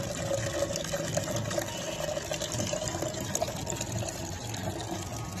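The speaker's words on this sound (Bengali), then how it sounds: "গাছে জল দিব" Water pouring onto rooftop plants, a steady splashing trickle that continues without break at moderate level, close by with faint background noise.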